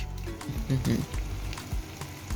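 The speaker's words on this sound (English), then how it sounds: "I'm going to fry the gizzard." Gizzard frying in a pan for gizdodo gives a brief, soft sizzle with a few light clinks and knocks over about two seconds.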